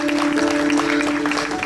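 A church congregation at an evening prayer gathering in Hazaribagh claps together in a dense, steady wash of applause, with a sustained musical tone running underneath.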